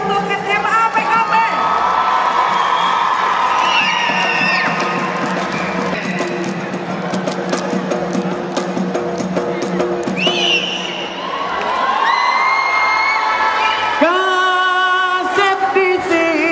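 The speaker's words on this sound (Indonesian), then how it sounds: "Tepuk tangan yang meriah untuk SMA PKP." A crowd cheers and shouts at a school celebration for SMA PKP on the PKP campus in Jakarta, loud and continuous across the whole stretch, mixed with voices and tonal sounds, with a brief dip near the end.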